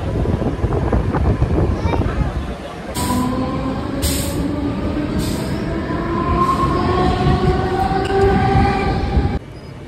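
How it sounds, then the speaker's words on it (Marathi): A train runs toward Ambernath railway station in Maharashtra, a loud, steady rumble of wheels on track with drawn-out metallic wheel squeals rising over it, continuing for several seconds before cutting off near the end. "त्यामुळे तुम्ही पाहू शकताय की गाडी चालू आहे।"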